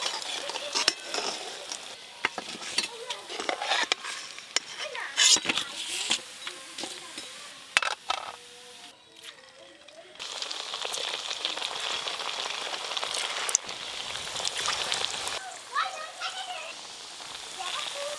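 Potato and semolina snacks deep frying in oil, a crackling, bubbling hiss like rain on a surface, interrupted by clattering handling noises and a brief lull before the frying noise resumes at full strength.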